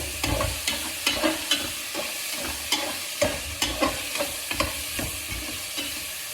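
Salted food is stirred in a sizzling pan, the spoon scraping in a quick, fairly regular rhythm of many close, crisp strokes over a continuous frying hiss; no speech.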